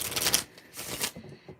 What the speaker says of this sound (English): You got to make sure you really shuffle the deck